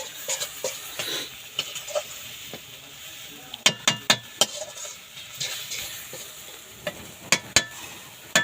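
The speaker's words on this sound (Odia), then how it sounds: "ମସଲା କଷା ବର୍ତ୍ତମାନ ହେଉଛି।" Masala being sautéed and stirred in a pan for a village-style curry of desi magur fish, with a steady frying sizzle and repeated sharp spoon scrapes and clinks against the pan, some close and loud, no talking.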